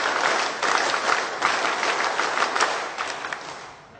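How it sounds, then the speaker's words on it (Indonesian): A scout gathering in Jakarta does the rhythmic scout clap, a loud crowd clapping in bursts that fades toward the end. "Saya ingin kita tepuk pramuka."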